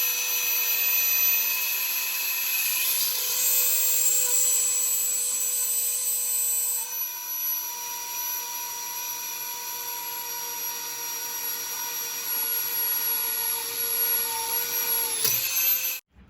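A Dremel 4000 multi tool runs for drilling metal, giving a steady high-pitched whine with a faint pitch rise early on, held at a constant level for about fifteen seconds before cutting off abruptly.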